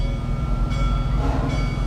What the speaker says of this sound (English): this train is getting ready to depart.